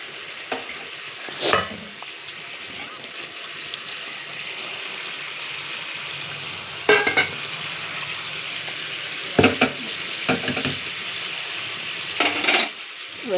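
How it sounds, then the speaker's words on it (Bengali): Spice paste with poppy and melon seeds fries in a pan for a yogurt fish curry. A steady soft sizzle runs under occasional scraping strokes of a spatula against the pan, close and moderately quiet, no talking. "মশলাটা একটু কষিয়ে নিই ভালো করে"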